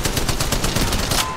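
Rapid automatic gunfire in the mobile video game Apex Legends Mobile, a steady, loud stream of evenly spaced shots close up.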